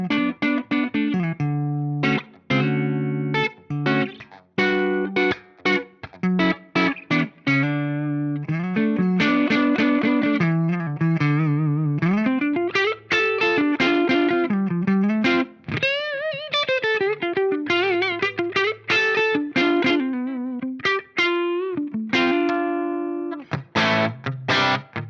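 A Hamer Standard electric guitar on its Seymour Duncan Jazz neck pickup plays a clean tone through an Axe-Fx III Marshall amp model, with melodic single-note lines and chords over a sustained, continuous passage and no talking.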